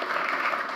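A conference audience on the third day of a multi-day dialogue event applauds steadily, a dense, even wash of clapping filling the short stretch with no pauses.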